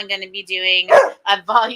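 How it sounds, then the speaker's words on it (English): A pet dog barks nearby, one or two sharp barks breaking in over someone talking close to the microphone. "that's my dog"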